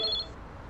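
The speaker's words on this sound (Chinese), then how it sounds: "哦，原来是你们的电话。" A mobile phone ringtone chirps briefly and fairly faintly at the start, a short electronic ring that stops within a fraction of a second on a film set.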